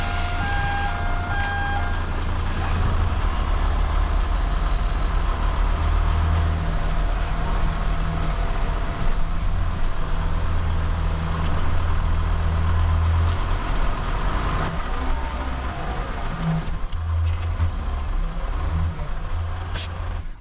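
Truck engine idling and creeping onto a scrapyard weighbridge, a steady loud diesel rumble with faint intermittent reversing-style beeps over the constant drone.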